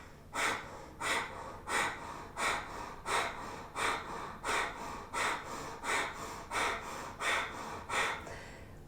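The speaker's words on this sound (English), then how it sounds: "belly muscles in, and that forces the breath out of the nose" Kundalini yoga breath of fire: forceful rhythmic exhalations pumped out through the nose by the belly, about fifteen sharp snorting breaths in a steady, close, even pulse with no talking.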